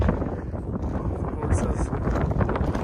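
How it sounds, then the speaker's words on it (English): Strong wind buffeting a microphone outdoors beside a Ram 3500 pickup hitched to a horse trailer, a dense low roar that rumbles steadily through the whole stretch with gusty swells. "super windy today"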